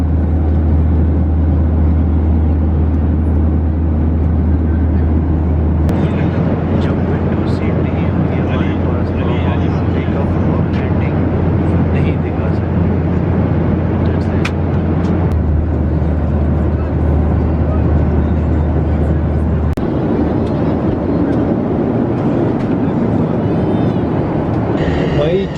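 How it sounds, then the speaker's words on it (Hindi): Inside the bathroom of an Oman Air airliner in flight, a loud, steady low-pitched roar of cabin and engine noise fills the space throughout, with faint rustling on top and a slight drop in the rumble partway through. "जहाज़ के बाथरूम में हूँ इस वक्त, वीडियो बना रहा हूँ बाथरूम में"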